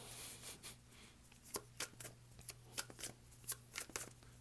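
Tarot cards being shuffled, a quiet series of short papery riffles and flicks coming in an irregular rhythm, close up over a faint steady hum.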